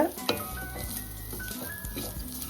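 Avakaya mango pickle rice being stirred in a pan over a low simmer: a soft steady sizzle with a few scrapes and clinks of the spoon against the pan, close and alone.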